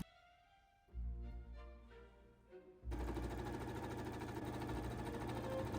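A sewing machine runs along the side seams of a dress in a short burst, then starts up again and hums steadily through to the end. A few soft clicks and handling noises come first.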